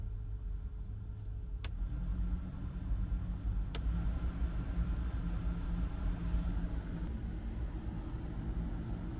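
A Volkswagen Transporter T5 diesel van engine idling steadily after repair, a low, even rumble heard from nearby at moderate volume, with a couple of faint clicks early on and no talking.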